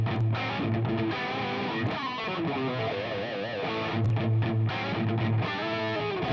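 Heavily distorted electric guitar plays sustained, gritty chords and bends, loud and continuous with a thick, aggressive tone.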